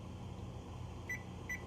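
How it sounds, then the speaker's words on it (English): Two short electronic beeps from a kitchen timer being set while bagels boil, heard over a steady low hum of stovetop or appliance noise, no voices. "So I'm going to put the timer on."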